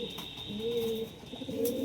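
Domestic pigeons coo inside a loft kept within a large poultry farm, with low, throaty calls rolling steadily and overlapping at close range.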